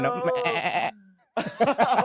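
A voice imitating a goat's bleat, two wavering, quavering cries separated by a short pause.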